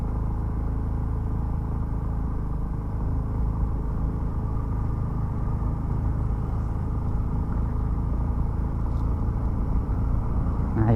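A motorcycle with a 14/36 sprocket combination climbs an uphill road in 3rd gear, its engine giving a steady, low, continuous drone close to the microphone, with no talk.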